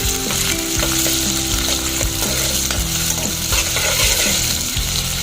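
Soaked lentils and other ingredients brown in a hot pan with a loud, continuous sizzle and crackle, while the spoon scrapes and stirs them in short repeated strokes.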